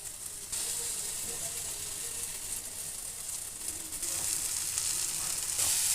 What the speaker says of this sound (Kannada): ಇವಾಗ ಸಣ್ಣಗೆ ಹಚ್ಚಿಟ್ಟುಕೊಂಡ ಟೊಮೊಟೊ ಇದನ್ನ ಹಾಕ್ತೀನಿ